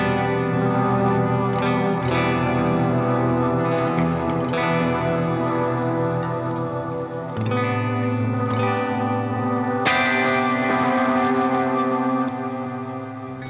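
Heavily reverberant guitar tones from a post-metal and ambient pedal board, sustained chords washing into one another in a dense, continuous wall of sound with shimmering echo tails and no voices.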